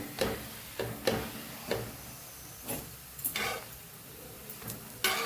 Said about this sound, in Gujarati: સાવ ધીમા ગેસ ઉપર આપણે ભાખરી શેકીએ છીએ